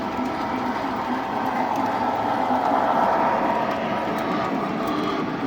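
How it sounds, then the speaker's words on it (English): Small lighted model trains run on an elevated track above a Christmas layout, giving a steady, continuous rolling hum and rattle with no pauses. "these little light trains that are running up on top here"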